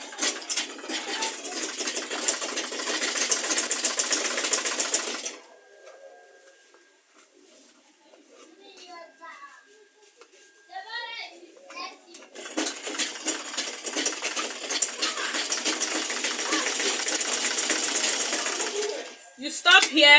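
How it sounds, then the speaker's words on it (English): A sewing machine stitching an insulated school lunch bag, running in two sustained bursts of rapid, whirring stitches separated by a quiet pause with light handling sounds and a voice. "Then you continue sewing."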